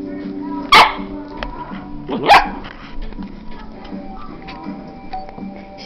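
A puppy barks at an older dog, two sharp loud barks about a second and a half apart, followed by quieter yips in a room.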